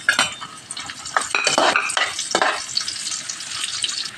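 Garlic and onion sauté in a pan, loud sizzling mixed with scraping and clinks of a utensil stirring against the metal, steady throughout.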